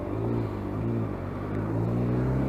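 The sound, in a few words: motorbike engine started and running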